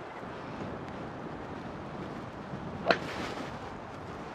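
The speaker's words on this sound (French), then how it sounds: "Il y a du vent." Steady wind blows across an open golf course, a soft continuous rush buffeting the microphone with a brief gust peak, and no talking.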